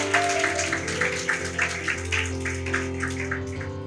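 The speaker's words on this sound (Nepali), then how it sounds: "जोडसँग ताली बजाउन सक्नुहुन्छ येशूको लागि" A church congregation at a Sunday Nepali service clapping together for Jesus in a steady rhythmic beat, many hands sounding in unison over lingering sustained keyboard music.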